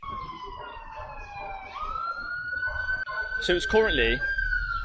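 An emergency siren sounds on a street in the Bronx, with a steady wailing tone gliding slowly in pitch alongside traffic noise, growing nearer, as someone speaks briefly over it.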